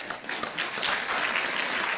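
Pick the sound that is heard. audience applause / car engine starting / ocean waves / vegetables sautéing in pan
audience applause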